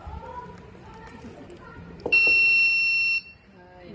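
A simple homemade vibration sensor device sounds its buzzer in one loud, steady high-pitched tone lasting about a second, cutting in after quieter background talk and room noise.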